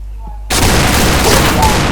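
Dense explosions and gunfire in the video game Point Blank burst in suddenly after a quiet start, a loud continuous barrage of shots and blasts.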